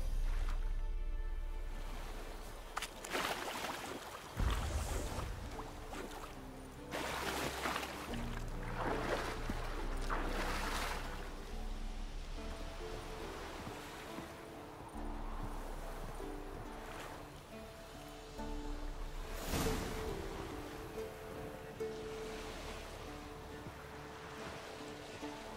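Wooden boat crossing a lake in the Witcher 3 game world, with continuous water sloshing and lapping against the hull, broad washes of surf-like sound swelling and fading throughout, steady and fairly close.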